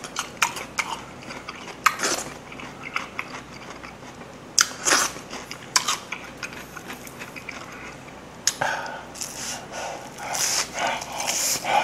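Close mukbang eating of a golden fried chicken drumstick, crisp bites followed by repeated crunchy chewing and small clicks, irregular and up close with no talking.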